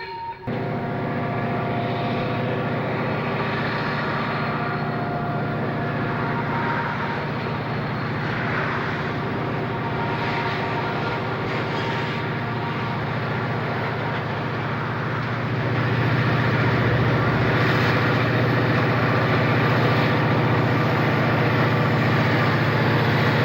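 A B&O or C&O diesel freight train, a westbound with empty cars, rumbles steadily through snowfall in Piedmont, Maryland on a steep grade. The low engine drone holds throughout and swells louder near the end.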